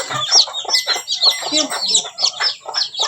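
A flock of chickens clucks close by in a quick, continuous chatter of overlapping short calls with no pause.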